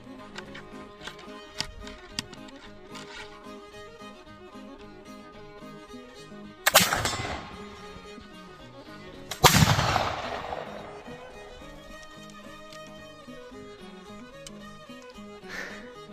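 Flintlock rifle gunshots outdoors: two loud, sharp blasts several seconds apart, each followed by a rumbling decay, against a quiet background with faint scattered clicks.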